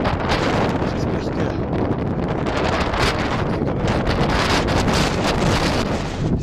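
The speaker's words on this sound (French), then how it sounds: "Avec le vent ça caille un peu." Strong wind blows across the microphone at a cold mountain pass in Kyrgyzstan, a loud continuous rushing roar with gusty surges throughout.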